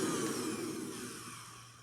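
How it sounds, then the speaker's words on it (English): A Bissell vacuum cleaner runs with a steady, loud motor whine and airflow roar that eases off slightly over the short stretch, with no talking. "So I want us to learn how to set your Bissell vacuum cleaner."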